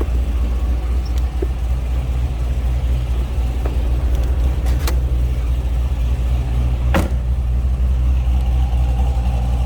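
A deep, steady V8 exhaust rumble from a 2003 Chevrolet Corvette Z06 with a 5.7 liter engine drones continuously at close range, loud and low, with a few faint clicks and taps over it.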